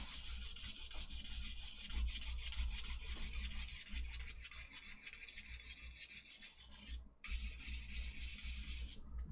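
Palette knife scraping and mixing quinacridone violet oil paint into red on a palette, a steady soft rubbing and scraping texture that continues throughout with a couple of brief pauses.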